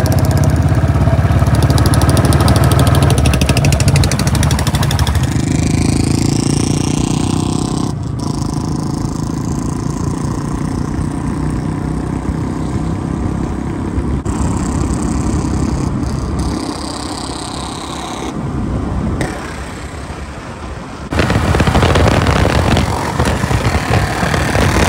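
A Royal Enfield Bullet motorcycle engine runs loud and close, its steady thumping idle shifting in pitch and level, with brief dips and a strong rev near the end.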